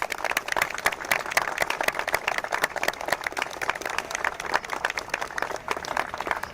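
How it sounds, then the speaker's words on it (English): An audience at a living tribute celebrating women who serve gives a round of applause for its honorees, with steady, dense clapping from a crowd throughout, loud and close. "let's give our honorees another round of applause"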